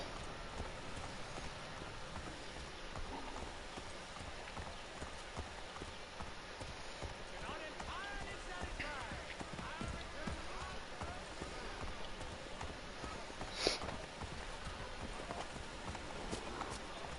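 Horses clip-clopping along steadily through the video game Assassin's Creed 3, a continuous rhythmic hoof patter at moderate distance, with one sharp louder knock near the end and faint voices in the mix.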